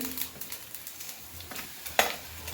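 Coriander seeds and black masala with onion sizzle in a pan with a little oil, faint frying and scraping stirs close by, with a sharper scrape near the end.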